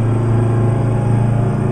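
Steady, loud idling rumble of a 1974 Kenworth W900A truck's Detroit diesel engine with an 8-speed transmission in American Truck Simulator, droning evenly and alone.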